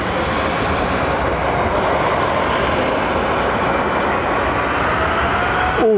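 Airliner jet engines spool up at Heathrow Airport in a broad, continuous roar that holds steady and fairly loud at a distance, with a brief rising whine right at the end.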